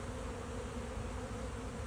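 Honey bees buzzing around a beehive, a dense, continuous insect drone at close range, steady in level with no other sounds.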